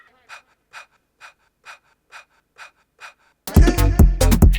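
Rhythmic panting breaths in an energetic electronic track made on a Polyend Tracker and Ableton Move. Seven short evenly spaced breaths play alone, then a loud dense beat comes in.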